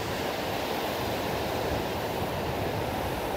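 Sea waves and wind at the seashore make a constant, dense roar of surf and breeze, with no voices.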